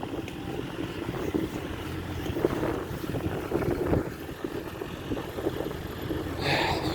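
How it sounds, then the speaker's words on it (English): Steady wind buffets the microphone with a low rumbling roar, gusting throughout with no voices. "Windy, windy, windy."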